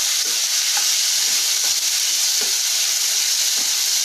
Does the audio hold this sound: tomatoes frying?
yes